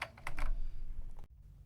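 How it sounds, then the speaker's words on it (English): Keys on a ZX Spectrum Plus 2 home computer clack in a quick run of close, crisp presses, then stop abruptly into near silence. "the inbuilt tape recorder and the lovely sounding keys there"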